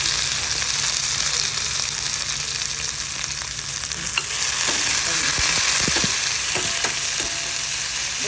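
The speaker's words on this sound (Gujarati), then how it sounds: "અને જીરું તતરે એટલે આપણે જે આદુ મરચાં વાટેલા છે એ આમાં" A ground ginger and green chili paste hits hot oil with crackling cumin seeds and gives off a loud, continuous sizzle and hiss, broken later by a few stirring scrapes and clicks, with no talking.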